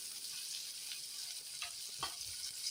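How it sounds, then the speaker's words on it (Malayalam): Onion and two green chilies fry in a pan at home for a traditional lunch, giving a steady soft sizzle with a few brief stirring scrapes near the end, with no talk. "ഉള്ളി മൂപ്പിച്ചിട്ട് 2 പച്ചമുളക് ഇടുക"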